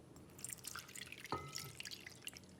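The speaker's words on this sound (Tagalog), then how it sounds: "lagyan natin ng tubig" Water poured into cornstarch in a bowl for a chicken sauce, heard as faint splashing and a few drips, quiet and close, with no talking.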